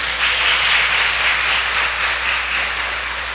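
A church congregation applauding, a dense and steady wash of many hands clapping together at full volume throughout, with no single claps standing out.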